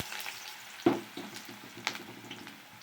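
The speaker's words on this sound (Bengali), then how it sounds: "দিয়ে দিচ্ছি কেটে রাখা আলু" Cut potatoes dropping into oil tempered with nigella seeds, a quiet sizzle with a couple of sharp spoon clinks against the pan.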